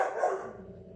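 A pet dog, Whiskey, gives a single loud, close bark indoors, sharp at first and trailing off within about a second.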